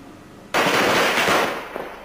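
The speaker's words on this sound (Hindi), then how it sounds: "तो पटाखों का शोर" Firecrackers burst during Diwali celebrations in India, a sudden loud crackling barrage of rapid pops that fades slightly over two seconds, close and without voices.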